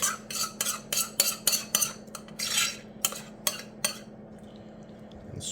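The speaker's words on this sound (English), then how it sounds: "Now we're going to take the entire contents of this bowl and scrape it out really good" A utensil scrapes the contents out of a mixing bowl for a cranberry spruce tart: about ten crisp, close strokes in an uneven rhythm, with no talk.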